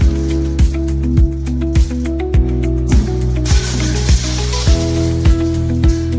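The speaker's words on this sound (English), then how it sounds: "this high-speed press continuously stamps the complex slotted hole patterns required for Australian pallet racking systems" A high-speed press stamps slotted hole patterns into steel strip for Australian pallet racking, striking in a fast, regular rhythm of about two heavy clunks per second over a steady mechanical hum, loud and close.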